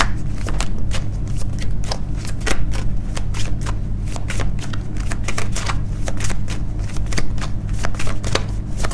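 Angel cards are shuffled close up, a steady stream of quick riffling clicks and snaps repeating in fast, uneven bursts throughout.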